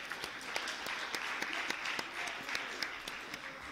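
Applause from the assembly at an Icelandic scout congress after a work plan is approved by a large majority: steady, fairly quiet clapping from a hall full of people, with individual claps popping out through the whole stretch.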